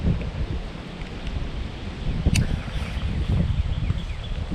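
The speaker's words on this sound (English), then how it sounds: "Now the wind is kind of blowing this way" Steady wind gusts outdoors by a fishing spot, a broad continuous rushing with slight swells and a faint rustle, no voices.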